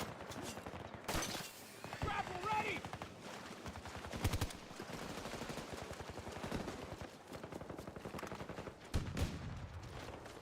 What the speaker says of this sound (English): You just shoot the gun.